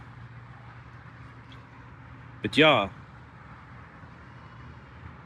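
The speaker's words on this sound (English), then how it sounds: "And it's quite noisy because of all the cars here." Steady low rumble of passing cars on a busy road, constant and moderately close, with a person briefly speaking over it midway.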